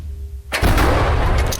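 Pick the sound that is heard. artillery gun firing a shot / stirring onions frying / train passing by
artillery gun firing a shot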